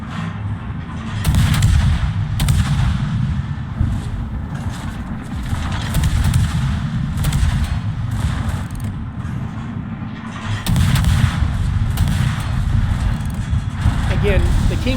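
Naval gunfire in World of Warships ranked battle, ships including a King George and an Atlanta firing: repeated booming shots and rumbling over a continuous low battle roar, with someone talking throughout.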